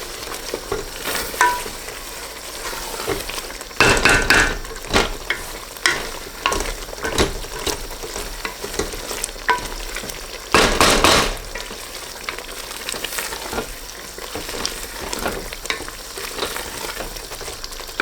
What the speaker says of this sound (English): Keep the heat high and let's reduce the masala slightly.